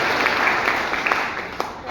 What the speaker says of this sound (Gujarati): એમના માટે આપણે જોરદાર